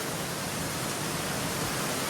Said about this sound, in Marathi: काही फुल प्रेशरने पाणी आहे.